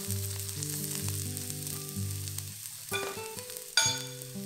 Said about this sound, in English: Fry the garlic till it's fragrant.